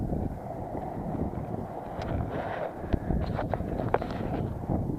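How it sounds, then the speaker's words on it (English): Gusty wind rumbling across a microphone on a rooftop during coil cleaning, a moderate low roar broken by a few light knocks and taps, no speech. "A little windy up here today."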